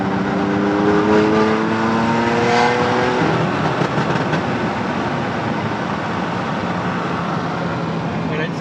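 A 570 hp car with a stage 2+ MHD tune pulls hard from a rolling launch, its engine note climbing through the revs over a few seconds before giving way to loud, rushing road and wind noise.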